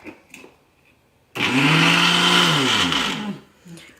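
A kitchen mixer grinder whirs loudly for about two seconds grinding white sesame seeds, its motor pitch sliding down as it winds off, with faint voices before and after.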